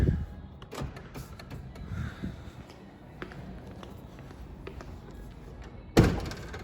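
The power trunk of a 2014 Lexus GS 350 with the tech package opens with a series of soft clicks and mechanical thunks, ending in a louder close thud as the lid releases.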